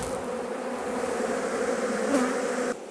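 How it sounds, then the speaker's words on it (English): A honeybee drone, larger and stingerless, gives a steady close buzzing drone that holds evenly for a few seconds, then cuts off abruptly. "this bee is a lot bigger, has bigger eyes, and actually has no stinger. That's a drone."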